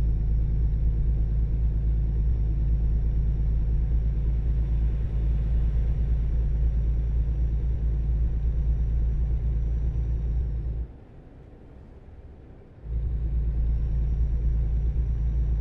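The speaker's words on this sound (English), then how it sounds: "This truck does kind of struggle to get up to speed." Simulated FedEx Freight truck engine in American Truck Simulator, a steady loud low rumble as it labours to gain speed, briefly dropping away near the end before returning; no voices.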